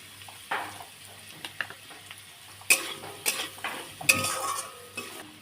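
Potatoes frying in oil with salt, turmeric and chili powder, a steady sizzle under repeated scraping, clinking stirs of a spatula against the pan, close and without talk.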